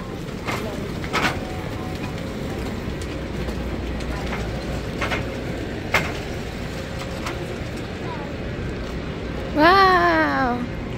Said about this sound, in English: Wow, train is there.